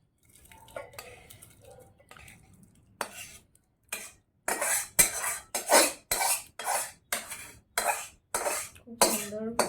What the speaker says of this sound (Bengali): তড়কাটা আমি এবার আস্তে আস্তে পাত্রে ঢেলে নিচ্ছি।